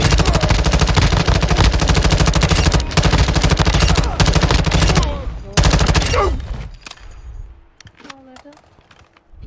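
Dense, loud automatic gunfire in the video game DMZ, sustained rapid bursts for several seconds that break off into scattered shots and fading noise.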